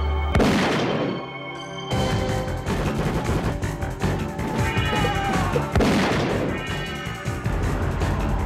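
A 12-gauge shotgun fires in loud, sharp blasts, one near the start and another around six seconds, with clattering, crashing action and echoing debris filling the space between shots, no voices present.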